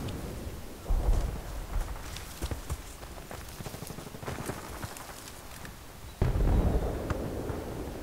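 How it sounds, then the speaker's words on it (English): Grenade explosion in the video game Battlefield 3, a loud low boom bursting out about six seconds in amid ongoing gunfire and battlefield noise, with an earlier thump near the first second. "Throw a nade up here to try to cover myself a little bit."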